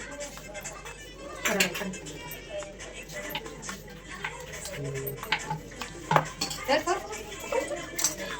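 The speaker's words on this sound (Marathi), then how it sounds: "आता हे आपल्याला असं mix करून घ्यायचंय." Masala spices being mixed into a dish in a pot while cooking paneer, with a metal spoon clinking and scraping in irregular bursts nearby as people talk.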